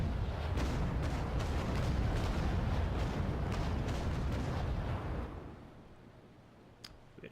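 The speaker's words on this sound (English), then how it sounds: "we're being a bit greedy there, trying to get another set of grape shot off" Naval Action warship cannons firing grape shot: a heavy, rumbling barrage of booming blasts that holds for about five seconds, then dies away into a quieter tail with a faint pop near the end.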